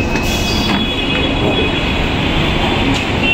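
A metro train runs close by with a steady, loud rumble of wheels on rail, thin high squeals and faint clicks threaded through the continuous noise for the whole stretch.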